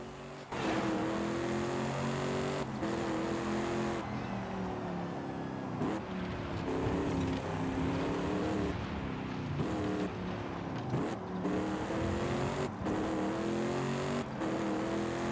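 A stanced Ford F-450 Platinum truck, tuned to around 1,000 horsepower, sends out a loud, steady engine roar that rises and falls through repeated revs, close and continuous for the whole stretch with no talking.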